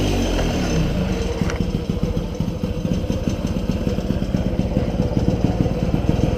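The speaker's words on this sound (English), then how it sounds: "Idles nice and good." A Yamaha PW50 dirt bike's small engine, with a freshly tuned carburetor and serviced exhaust, idles close by in a steady, rapid putter that runs evenly throughout, with no one talking.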